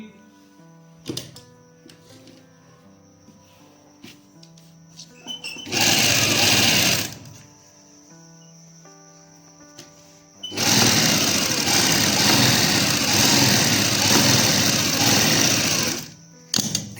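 Sewing machine stitching an Afghani salwar runs in two loud bursts, one short and one longer, a fast mechanical whirr and rattle separated by quiet pauses with faint background noise.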